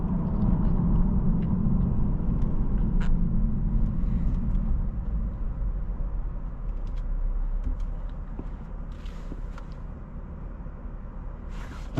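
A 2022 Lexus IS 350 F Sport with its 3.5-liter V6 driving along, heard as a steady low engine and road rumble from inside the cabin, loud and continuous, easing slightly toward the end.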